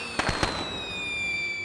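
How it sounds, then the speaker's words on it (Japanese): Fireworks are set off at night on a Japanese seaside inn trip: a few quick cracking pops in a tight cluster, followed by a long shimmering hiss and whistle that fades out slowly. "그 시각 쿄에이는 고모부인 시게하루와 불꽃놀이를 즐깁니다."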